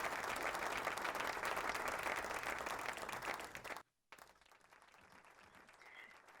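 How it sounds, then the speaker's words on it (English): Sustained audience applause at the 2021 Franz Edelman Award ceremony, honouring the United Nations World Food Programme; dense, steady clapping for nearly four seconds cuts off abruptly, followed by quieter room ambience. "Let's give another round of applause to the 2021 Franz Edelman Award winner, United Nations World Food Programme"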